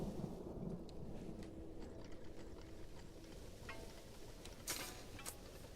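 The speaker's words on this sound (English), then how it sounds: "this lightning is so loud" A low rumbling thunder roll during a lightning storm in the game Songs of Syx, steady and broad under light rain-like crackle, with a few brief sharp clicks near the end.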